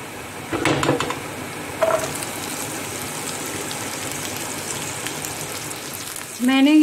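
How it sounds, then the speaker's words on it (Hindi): Cumin seeds sizzle in hot oil in a pan for kadhai paneer, a steady close hiss with a couple of brief clinks and a scrape, ending in a rising tonal squeak. "ज़ीरा हमारा थोड़ा सा सिज़ल करने लगेगा तब हम इसमें हमारा प्याज ऐड कर देंगे"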